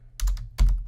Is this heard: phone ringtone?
no